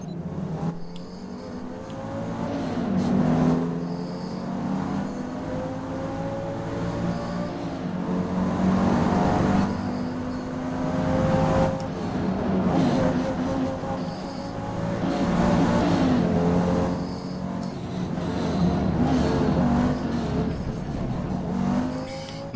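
A pack of race cars in Forza Motorsport on a speedway circuit, engines droning and revving in overlapping waves that swell and fade as cars pass, loud and continuous with no talking.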